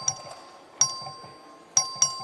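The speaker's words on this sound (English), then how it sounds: "The clerk will ring the bell." A voting bell rung in the Texas House chamber during a record vote, sounding four bright ding strikes in an uneven pattern, two close together at the end, fairly faint over a quiet room hum.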